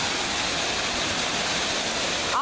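Waterfall on the Appalachian Trail roars in a dense, unbroken wash of white noise, close and loud, spilling down a rock face with no voices over it.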